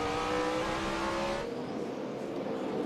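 Onboard the Budweiser Chevrolet in the 2006 NASCAR Cup Series fall race at Martinsville, a loud V8 engine roars steadily, its pitch dropping sharply as the car lifts off midway.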